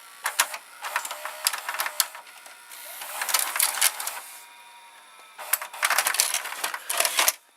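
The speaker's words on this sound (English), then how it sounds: "But now let's eject the cassette." A Sanyo VCR ejects a cassette with a run of close mechanical clicks, whirs and clunks that come in several short bursts separated by brief pauses.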